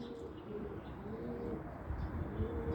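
Pigeons in a loft cooing softly in low repeated notes, with a steady background murmur and faint rustling that may be wing flaps.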